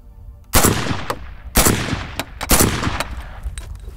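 Rifle firing polymer-cased plastic ammunition, shot left-handed outdoors: three loud, sharp reports about a second apart, each with a long ringing decay, no talking.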